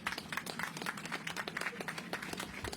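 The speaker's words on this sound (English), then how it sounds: "Now let's give a real round of applause for Michael Phillips, president of Jamestown" Audience at a Times Square press event gives a round of applause: dense, steady clapping from a moderately sized crowd, evenly sustained through the short stretch.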